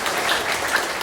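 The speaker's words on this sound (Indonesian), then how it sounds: "Mari tepuk tangan kita sekali lagi." Audience at an anniversary ceremony in Pegunungan Arfak regency clapping, a brief burst of steady, moderately loud applause from a crowd, with no speech.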